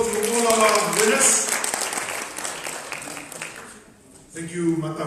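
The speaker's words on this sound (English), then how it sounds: "another big round of applause to all our winners" A convention audience claps for award winners at a customer service event in Botswana, dense sustained applause that fades briefly before swelling again, with a voice speaking over it.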